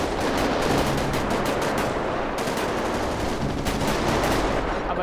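Rapid automatic gunfire in GTA 5 rattles almost continuously in dense bursts, loud and close, with no voices over it.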